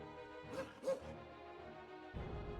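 A dog barks twice in quick succession in the fantasy role-playing video game Pillars of Eternity, fairly faint and set against a steady game ambience.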